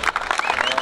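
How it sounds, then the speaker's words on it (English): Audience applause at a games opening ceremony, a dense burst of clapping from a crowd, loud and close, filling under a second without any voice. "A big round of applause to our PS, ladies and gentlemen."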